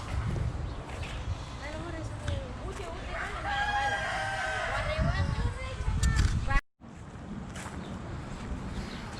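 Local village chickens with a rooster crowing in drawn-out calls, moderately near, while people talk over the flock; a brief dropout cuts the sound before the background resumes.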